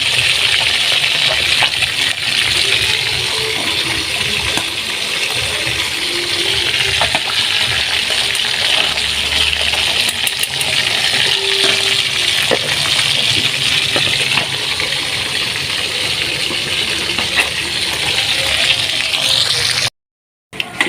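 Galunggong fish, a second batch, frying in hot oil with a steady, dense sizzle that runs unbroken and fairly loud throughout, with faint clinks now and then.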